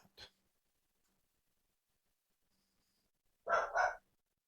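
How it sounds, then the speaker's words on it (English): A dog barks upstairs, two quick muffled barks near the end after an early short yelp, distant and indoors, with quiet between. "Of course, my dog's barking upstairs"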